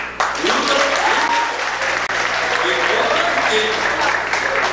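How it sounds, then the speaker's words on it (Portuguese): A large audience at a medical course ceremony claps steadily and loudly for the whole stretch, with faint voices and a low hum beneath the dense applause. "Eu pediria não só uma salva de palmas"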